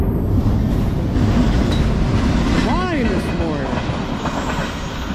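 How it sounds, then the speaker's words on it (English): A Norfolk Southern freight train led by rebuilt AC44C6M locomotive #4552, running about 50 mph with 64 axles, rumbles past close by, with a continuous heavy roar of wheels on rails and a brief metallic squeal partway through. "First train of the day"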